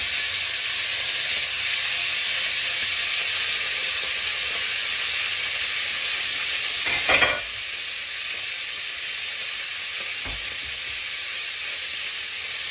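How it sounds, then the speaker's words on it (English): Beef stroganoff fries in a pan with a loud, constant close-up sizzle and hiss, briefly interrupted by a soft clatter midway. "Okay, now that's going to fry."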